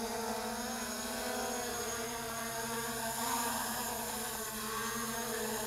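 A Holystone HS700E GPS drone hums through an automatic landing, a steady high buzzing propeller whine holding at an even level, close and without talk.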